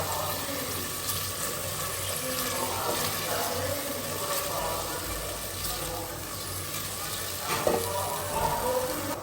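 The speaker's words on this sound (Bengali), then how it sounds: "লাউ আর ডাল একসাথে দিয়ে দিলাম" Bottle gourd and soaked lentils drop into a hot cooking pan over spiced masala, giving a steady watery sizzle and bubbling that continues with small clinks near the end, with no talk.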